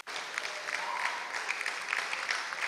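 An audience at a college alumni homecoming applauds, a dense wash of steady clapping throughout, moderately loud and fairly close, with no talking over it.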